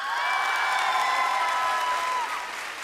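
A large audience at a music concert broadcast applauds a group in a dense, sustained roar of clapping that fades slightly near the end. A few cheers and whoops mix into it.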